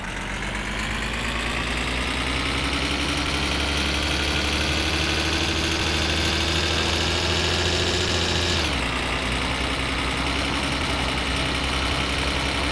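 A car engine idling in the video game My Summer Car, a loud steady drone with a slight rise in pitch, then a sudden drop near the end.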